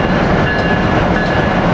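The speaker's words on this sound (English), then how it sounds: "Here we got Amtrak Regional 140 leaving with AM7 934" Amtrak Regional 140, led by AEM-7 electric locomotive 934, pulls out of 30th Street station with a loud, close, continuous rolling rumble and faint rail clatter throughout.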